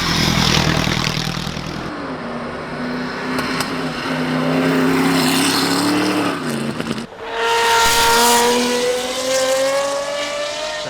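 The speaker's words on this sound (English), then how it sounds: "you've got the 1907 Mercedes 120 horsepower" A 1907 Mercedes 120 horsepower racing car climbs the hill at the Goodwood Festival of Speed. Its loud, rough engine rises through the gears in sweeping revs, with a sharp shift and renewed climb near the end.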